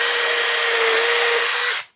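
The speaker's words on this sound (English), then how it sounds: "I'm gonna countersink the screws." A power drill countersinks screws into wood boards, one loud sustained high whine for just under two seconds that cuts off and spins down to silence.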